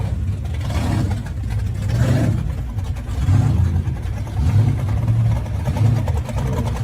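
A muscle car engine revs in pulsing bursts, its deep low rumble swelling and easing several times over a steady close-up drone, with no voices.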